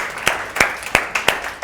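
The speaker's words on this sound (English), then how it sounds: "Please give Miranda a round of applause." An audience applauds with a short spell of scattered, fairly loud claps that land in a loose, slow rhythm.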